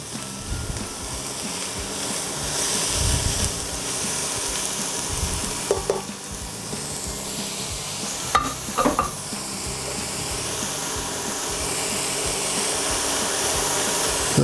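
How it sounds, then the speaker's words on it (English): Chopped onion sizzling in olive oil in a pan, a steady close hiss of frying that carries on throughout, with a few brief clinks and stirring scrapes midway. "So I've got 1 chopped onion. So I'll put that into the pan. And some olive oil."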